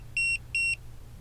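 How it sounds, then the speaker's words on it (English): A tilt warning alarm on a vehicle gives two short, sharp, high electronic beeps in quick succession as the vehicle leans to a steep angle, over a low engine hum. "And it alarms you."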